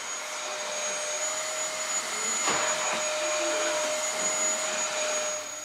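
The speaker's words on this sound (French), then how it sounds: "Passer l'aspirateur, ça fait partie des choses de la vie, on n'a pas le choix, on le fait" Children vacuum their bedrooms in a family home with a vacuum cleaner, its steady whining drone running unbroken and fairly loud from start to finish with no voices.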